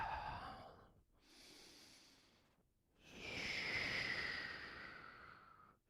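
Slow, deep breaths during a vinyasa yoga flow, a long inhale and exhale followed by a stronger, airy exhale with a hissing edge, close to the listener and with no talking.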